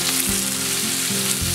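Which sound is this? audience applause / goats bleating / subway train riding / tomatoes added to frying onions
tomatoes added to frying onions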